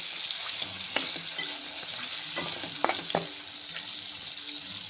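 Ingredients for palak paneer fry in a pan with a soft, even sizzle, punctuated by a few sharp clinks and scrapes as a spoon stirs against the metal.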